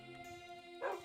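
A dog in the Minecraft video game gives one short, faint whine near the end, with no talking over it.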